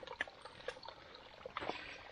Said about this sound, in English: And Walter found his little waterfall